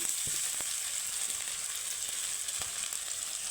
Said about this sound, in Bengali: এখন আমি তেলের মধ্যে দিয়ে দিব এখানে দিয়ে দেবো গ্রেট করে রাখা আদা